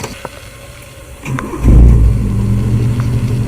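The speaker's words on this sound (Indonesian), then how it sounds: "kali ini kita gunakan mobil Kijang menuju ke puncak pohon pinus Ulamayo" A Toyota Kijang car on its way up to a pine forest summit rumbles low as its engine picks up. It begins faint, swells into a loud, close, steady drone after a brief click, then holds.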